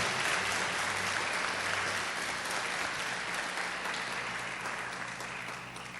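A church congregation applauds in praise, a dense, steady wash of many clapping hands that fills the space and tapers slightly toward the end.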